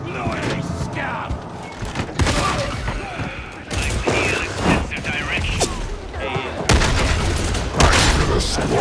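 Gunfire in the Warhammer 40,000 Darktide video game comes as dense, rapid volleys with heavy thumps and booms, loud and continuous, mixed with shouting voices.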